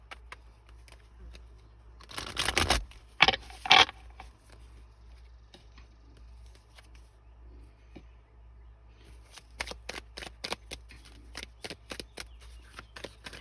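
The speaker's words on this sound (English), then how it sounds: "I'm going to shuffle." Playing cards are shuffled in short bursts: a quick riffle, two brief snaps, then after a quiet pause a rapid series of crisp riffles, close and fairly soft.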